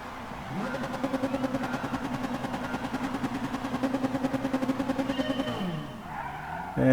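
A grid of race cars revs and launches at Tsukuba in a racing video game, engines droning in a loud, pulsing rhythm that rises, holds for several seconds, then drops away.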